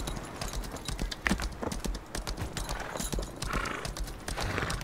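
Hoofbeats of a horse galloping as a character rides across the world in the video game Lost Ark, a steady rapid clip-clop with occasional whinnies, close and loud, with no speech over it.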